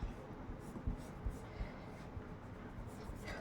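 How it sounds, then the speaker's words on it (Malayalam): An eraser rubs out a pencil drawing of angles on paper during a maths lesson, heard as faint, steady back-and-forth scrubbing strokes close up with no voice over it. "എന്നിട്ട് ഇതങ്ങ് മായ്ക്കുക."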